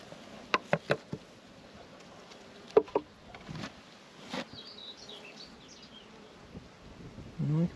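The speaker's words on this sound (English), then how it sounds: "That is all the bees we got in here." Bees in a weak beehive reduced to a single frame give a faint, thin buzz, broken by a few sharp knocks and taps from the frame and hive box nearby.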